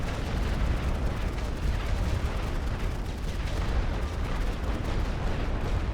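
Constant dense rumble of massed gunfire and artillery from The Great War: Western Front, an unbroken barrage of overlapping booms and cracks suppressing enemy troops, loud and steady with no pauses.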